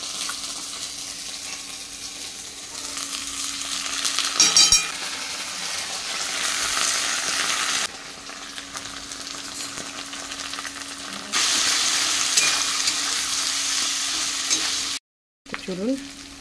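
Peanuts and potatoes fry in a pan, giving a continuous crackling sizzle with occasional stirring scrapes. Its level shifts a few times, with a brief silent break near the end.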